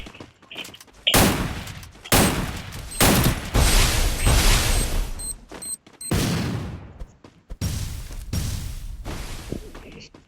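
Bursts of rapid gunfire from a shooting video game crackle loudly in several volleys with brief gaps.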